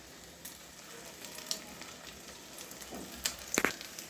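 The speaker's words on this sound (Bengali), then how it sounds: "আমি এটা একটু লাল করে ভেজে এবার উল্টিয়ে দিচ্ছি" An egg omelette with onion and chili frying in a pan, a quiet low sizzle broken near the end by a few sharp clinks and scrapes as it is flipped.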